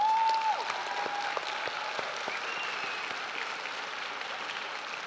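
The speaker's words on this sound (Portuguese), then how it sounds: "Vamos aplaudir Jesus com muita força?" Sustained audience applause at a Portuguese-language youth church service, a dense, steady wash of many hands clapping that continues evenly throughout, moderately loud in the room.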